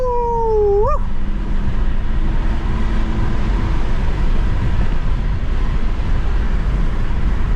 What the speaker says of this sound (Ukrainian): покажу вам свою катабанду